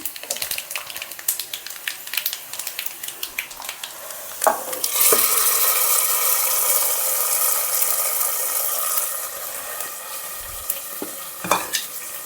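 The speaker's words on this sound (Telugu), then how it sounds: "తాలింపు ఫ్రై అయినాక పప్పులో వేసేస్తున్నాను" Fried tempering tipped into brinjal dal, Andhra style, starting with rapid crackling and ticking from the hot tempering, then a loud hissing sizzle as it hits the dal that slowly fades, with a few clinks of utensils near the end.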